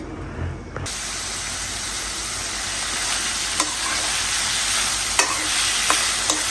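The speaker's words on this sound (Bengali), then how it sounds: "আমি এই যে এখানে হলো করলা ভাজি করব তেল দিয়ে দিছি" Bitter gourd sizzles in hot oil with a steady, bright frying hiss, punctuated by a few sharp crackles and pops, heard close and alone with no talking.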